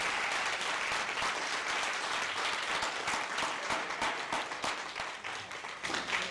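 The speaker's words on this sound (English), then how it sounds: "I want to give a great big round of applause to all 6 contestants" Steady applause from the audience for six contestants at a Lions statewide speaking contest, a continuous even patter of many hands clapping, moderately distant, holding for several seconds.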